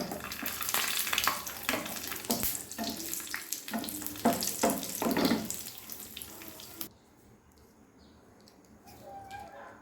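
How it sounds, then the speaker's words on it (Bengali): Cashews and raisins frying in oil for a chirer pulao, giving a dense, steady sizzling crackle for about seven seconds before it abruptly drops to near quiet. "এরপরে কাজু কিশমিশগুলো ভেজে নেব।"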